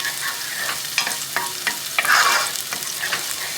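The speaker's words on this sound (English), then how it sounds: "We're gonna get it sizzling in the garlic for a few seconds" Garlic fries in a pan with a steady sizzle and a few sharp stirring clinks and scrapes, close up, no voices.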